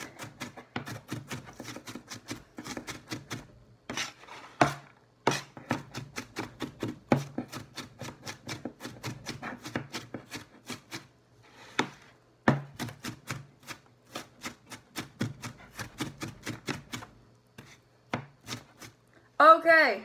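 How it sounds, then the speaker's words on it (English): Knife chopping onions on a cutting board, a close, rapid run of crisp taps in quick bursts with short pauses between runs, heard on its own without talk. "The onions are chopped."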